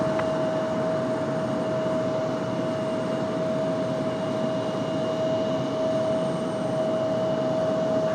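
A jet airliner roars on takeoff from runway 23 left at Raleigh-Durham International Airport, a steady, loud broadband rumble with a sustained whining tone, heard from a distance without voices.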